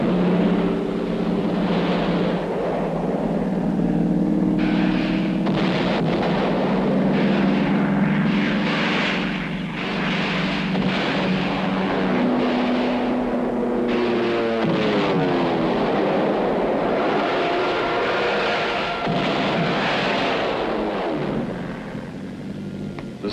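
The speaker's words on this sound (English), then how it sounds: "these planes are now ranging far and wide over North Korean territory" Several US 7th Fleet fighter planes fly over North Korea, a steady loud engine roar with shifting drone that continues throughout without a break.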